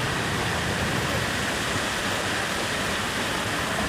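Karumparai waterfall roars as a broad, unbroken wash of rushing water, loud and close, steady from start to finish with no other sounds standing out.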